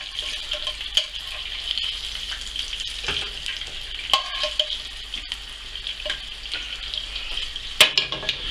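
Minced venison meatballs sizzle and fry steadily in a hot pan, a continuous close crackle with occasional sharper pops and a few stirring knocks, no talking.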